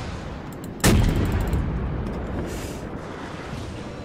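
A sudden loud gunshot-like boom from the secondary guns of the French cruiser Duguay-Trouin in World of Warships, followed by a long rumbling decay and faint scattered crackles of further fire under steady game ambience, with no voices.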